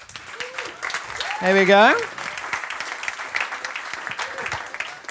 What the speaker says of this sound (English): So a big round of applause for these five charming young ladies here.